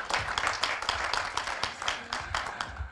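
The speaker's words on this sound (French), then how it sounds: "Adeline, qu'on peut aussi applaudir, ça fait toujours plaisir." Audience applause at a conference on reducing the environmental impact of programmatic advertising: dense, steady clapping from many hands for about three seconds, close and even.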